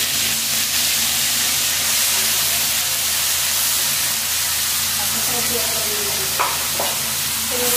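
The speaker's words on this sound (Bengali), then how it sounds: "ডালটা ফোটা দেওয়ার জন্য প্রথমে দেবো তেজপাতা আর দেবো গোটা জিরে, দেবো কাঁচা লঙ্কা, দেবো পেঁয়াজ বাটা 5টা চামচ" Bay leaf, whole cumin, green chili and five spoons of onion paste sizzle and fry in hot oil for a lentil tempering, a steady loud hiss throughout with faint stirring clinks near the end.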